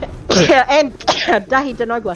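A sneeze bursts out during a casual Far Cry 3 gaming session, sharp and close, with people talking around it.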